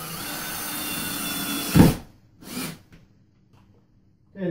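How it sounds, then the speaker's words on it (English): A power drill drives a screw through a mounting bracket into a wall stud, one steady whirring run that ends in a loud final bite. A brief second burst follows, then near silence. "we'll go ahead and screw this to the wall"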